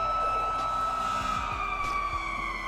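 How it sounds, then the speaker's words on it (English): Police and ambulance sirens wail together in a short, continuous burst of rising and falling tones over a low rumble, loud and close, with no voices. "In fact, let me trigger some sirens here."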